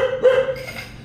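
A dog barks and yips nearby on a roadside in Vietnam, a short strained bark with a whining tone fading into background noise.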